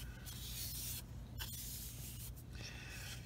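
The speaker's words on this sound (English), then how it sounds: "I'm going to spray all the areas that need the primer" An airbrush spraying primer runs continuously with a steady, hissing spray at moderate level, with a brief pause in the middle before the fine airy hiss resumes.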